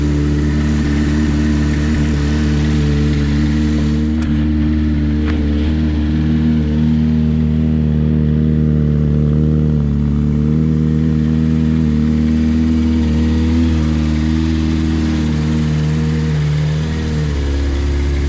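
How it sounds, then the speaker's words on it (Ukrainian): A Honda CBR1000RR Fireblade motorcycle engine idles steadily and loudly close by while warming up, a low rumbling drone that holds even throughout with slight fluctuations, no one speaking. "мотоцикл я в принципі прогрів. Завів його"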